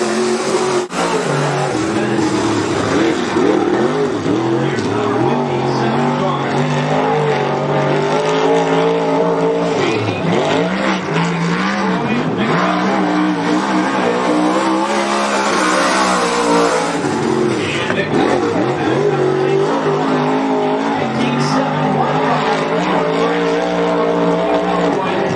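Race cars lap the short oval at Cottage Grove Speedway, engines roaring loud and steady with rising and falling pitch as they pass through the turns, continuous for the whole stretch with a voice talking over the track noise.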